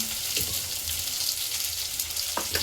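A pan of fried dal and tomato mixture sizzles steadily as chili powder is added, with a constant loud crackle and a couple of faint stirring scrapes, with no talking.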